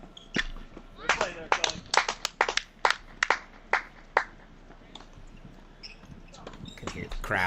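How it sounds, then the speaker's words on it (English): Crowd clapping drifting over from other tennis courts at the Barnes Tennis Center during a girls' junior national tournament, heard as scattered, distant bursts of claps and ball-like pops, followed by quieter stretches. "Can hear the crowd from other courts."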